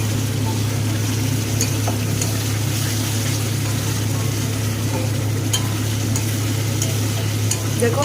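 Fish curry spice paste stir-fried with the water used to rinse the spices, giving a steady, close sizzle and scraping stir in a pan over a constant low hum, with no talking.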